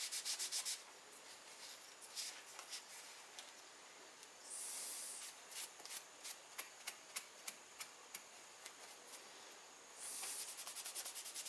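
Soft rubbing strokes as oil is worked into the wooden handle of a handmade needle cut-off tool, with brief hissing swipes and a run of quick scuffing taps, close and quiet with no talk.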